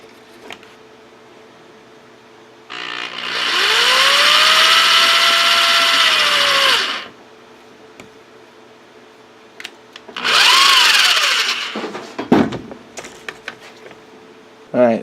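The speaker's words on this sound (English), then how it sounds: "I got one of the screws through the lid to mount the fan onto." A power drill drives a screw through a plastic lid to mount a 12-volt computer fan, in two close whining bursts that rise in pitch, with clicks and handling noise between and after.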